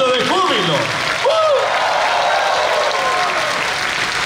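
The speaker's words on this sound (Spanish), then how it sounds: "Todos los aplausos que dan son para el Señor." A church congregation applauds loudly and steadily, a dense wash of clapping that carries on throughout, while a voice rises over it with drawn-out exclamations near the start.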